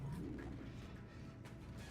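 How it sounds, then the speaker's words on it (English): Pigeons or doves coo softly at a steady, low pitch inside the Dead Space 2 video game, layered over a continuous dull ambient hum with no voices. "At least the birds were talking to him."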